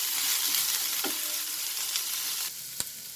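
Spring onion greens sauté with chicken fried rice in a hot pan, giving a steady, close sizzle with a few soft scraping stirs throughout.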